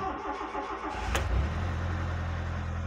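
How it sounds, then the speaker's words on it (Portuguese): A 1997 Fiat Palio's engine cranks briefly and catches, then settles into a steady idle, close up and alone with no voices. "Vou dar a partida."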